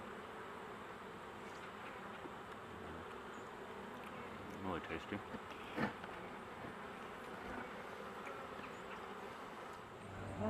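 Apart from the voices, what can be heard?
bees buzzing around a honeycomb hive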